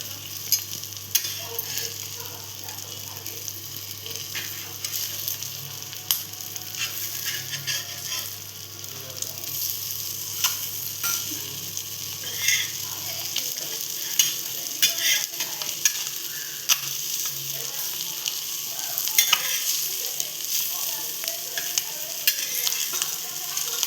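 An egg fries over very low gas in a pan as it is stirred and flipped, giving a continuous soft sizzle with scattered scraping and tapping of the utensil throughout.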